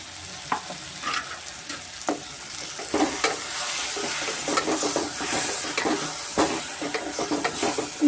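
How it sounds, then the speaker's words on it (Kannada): Ground raw masala paste fries in a pan with a busy sizzling hiss and repeated stirring scrapes, louder in the second half, close up and with no voices. "ಇವಾಗ ಇದಕ್ಕೆ ನಾನು ರುಬ್ಬಿರೋ ಮಸಾಲೆನ ಸೇರಿಸ್ತಾ ಇದ್ದೀನಿ ಯಾಕಂದ್ರೆ ನಾವೆಲ್ಲ ಹಸಿ ಮಸಾಲೆ ರುಬ್ಬಿರೋದ್ರಿಂದ ಸ್ವಲ್ಪ ನಾವು ಇದನ್ನು ಫ್ರೈ ಮಾಡ್ಕೊಳ್ಳೋಣ"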